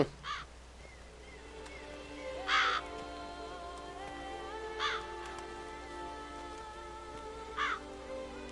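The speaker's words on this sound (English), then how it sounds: "Okay, all the birds. That's gotta be a sign." Crows caw in the Blood and Wine expansion of The Witcher 3, four distinct calls spaced a couple of seconds apart over a steady, quiet ambient game soundscape with no speech.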